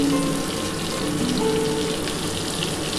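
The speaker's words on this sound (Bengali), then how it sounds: "এই কটা আগে ভেজে নিচ্ছি" Prawns frying in hot oil for chilli prawn: a steady, loud, crackling sizzle like heavy rain, constant throughout with no talking.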